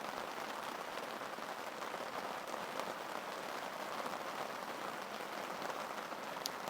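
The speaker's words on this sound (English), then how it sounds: "In the pouring rain." Steady heavy rain hisses and patters on a large air tent nearby, a dense continuous roar with no voices.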